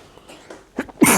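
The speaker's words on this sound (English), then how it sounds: "I sneezed, I'm sorry, excuse me." A single sharp, loud sneeze bursts out at the very end after a few soft breaths and small mouth sounds.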